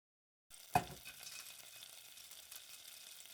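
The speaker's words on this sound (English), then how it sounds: "Let melt the butter." Butter melting in a pan for a salmon sandwich, a sharp clatter as it goes in, then a steady soft sizzle that carries on quietly to the end, with no voices.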